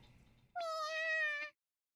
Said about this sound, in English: Sure enough, it's Aoi's kitten meowing from under the bench.